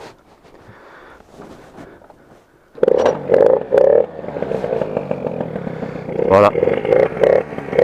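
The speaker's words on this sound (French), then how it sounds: "normalement, elle devrait démarrer au kick" A motorcycle is kick-started. After a few seconds of quiet shuffling, the engine catches and runs with a steady, close putter and some clattering, while someone speaks briefly over it.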